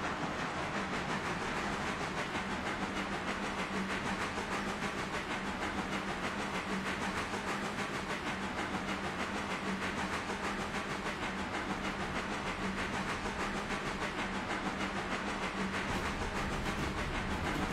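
A locomotive rolls through rail points in the RailRoader video game, giving a steady, continuous rumble with a faint hiss and light clickety-clack running throughout, with no talk.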